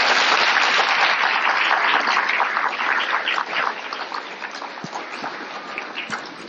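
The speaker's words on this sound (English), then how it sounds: "Let's give her a big round of applause" A large crowd at a school event applauds loudly for the principal, dense clapping that gradually thins and fades slightly toward the end.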